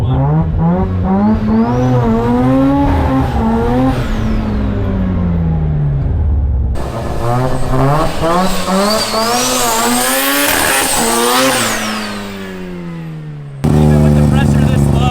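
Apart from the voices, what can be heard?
rotary Datsun launching in a wheelie attempt, tire spinning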